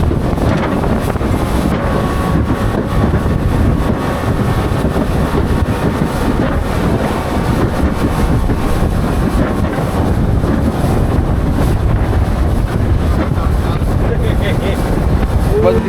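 Boat crossing the Crocodile River in Brunei, a steady rumble of engine and water with wind buffeting the microphone, continuous and fairly loud throughout.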